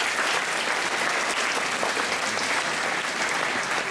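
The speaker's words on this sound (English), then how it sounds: "Students, join me in giving your teachers a round of applause as well." School assembly audience of students giving their teachers a round of applause: dense, continuous clapping from a large crowd, steady and even throughout without any voices on top.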